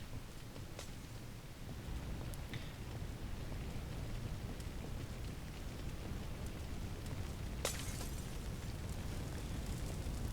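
Steady roaring crackle of a house fire spreading up a hallway in FireFighting Simulator: The Squad, a dense continuous hiss with occasional sharp pops, no voices.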